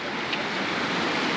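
A mountain stream in Bir Billing gives a steady, broadband rush of flowing water that stays even and close throughout, with no voices.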